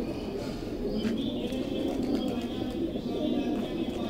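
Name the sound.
pigeons cooing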